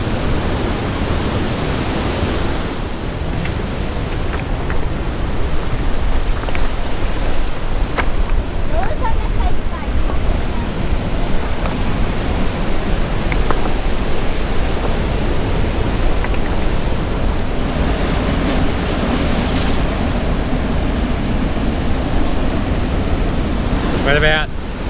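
Southern Ocean surf pounds the shore at Black Point beach in strong, cold wind, a loud continuous roar of breaking waves with gusts buffeting the microphone and faint voices now and then.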